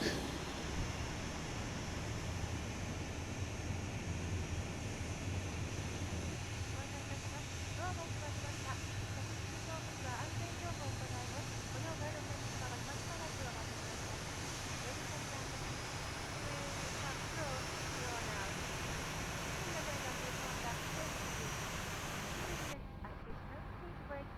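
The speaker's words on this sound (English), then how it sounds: "it looks like our engine 2 finished starting up" An airliner's number 2 jet engine spools up on the ground before a repositioning flight, a steady, dense roar and whine heard from inside the cockpit, continuous throughout with faint murmured voices underneath.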